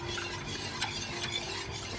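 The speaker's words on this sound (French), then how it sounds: "Vas-y, remue, toujours remue." Béchamel sauce stirred in a pan, a continuous soft scraping and gentle bubbling hiss with a few brief clinks of the utensil, close by and without speech.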